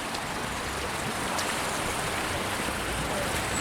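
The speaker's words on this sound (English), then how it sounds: "Another beautiful babbling brook." Steady rushing water fills the clip, a continuous bright babble of a small stream flowing over stones in Snowdonia, North Wales, close and constant with no voices.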